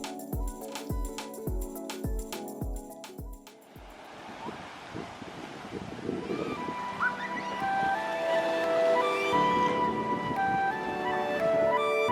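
Surf washing onto a rocky Oahu beach, a steady close wash of breaking waves and foamy water rising in the second half, with wind buffeting the microphone. A few sharp rhythmic knocks come before the waves build.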